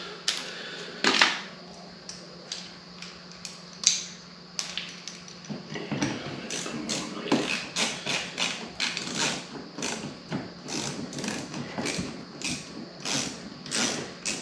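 A small hand ratchet clicks in quick irregular bursts while removing screws from a Tesla Model 3 rear bumper, sharp close-up ticks with brief pauses between runs of turning.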